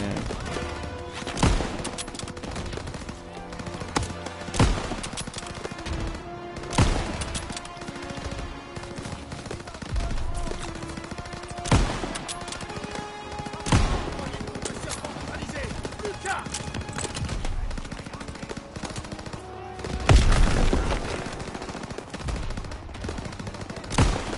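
Sniper rifle gunfire in the video game Call of Duty WWII: sharp, loud single shots spaced several seconds apart over a busy battle din, with someone talking at times.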